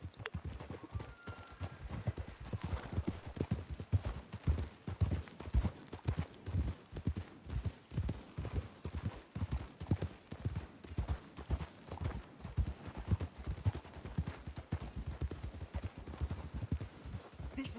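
Horses' hooves clip-clop at a steady walking rhythm in the video game Red Dead Redemption 2, a continuous run of close, moderately quiet hoofbeats with no talk over them.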